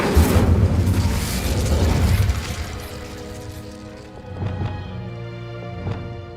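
In Hogwarts Legacy, the Incendio fire spell bursts with a roaring, crackling whoosh that fills the first couple of seconds, then eases into a lower rumble over a steady tonal game hum, with a few softer thumps after.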